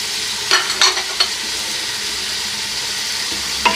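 Eight whole cloves drop into a pot of Afghani pulao with rice and oil frying underneath, giving a steady close sizzle with a few soft clinks and stirring scrapes.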